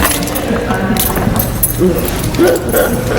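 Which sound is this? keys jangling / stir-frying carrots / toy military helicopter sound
keys jangling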